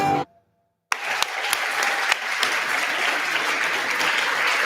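An awards ceremony audience breaks into sustained applause after a brief silence, a broad, even wash of many hands clapping with a few sharper claps standing out, continuing loudly to the end.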